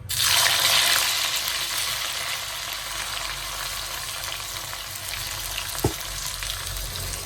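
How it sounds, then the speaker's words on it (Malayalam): Hot oil sizzles and crackles continuously, loudest at the start as bitter gourd goes in, then settling into a steady frying hiss with a faint clink. "ഇങ്ങനെ എല്ലാം പൊരിച്ചെടുക്കാം"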